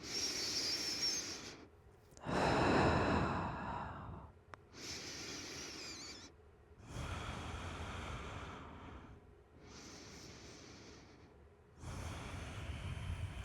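Slow, deep breaths during a yoga forward fold in an Ashtanga practice, five or so long airy inhales and exhales close to the microphone, each separated by a brief pause.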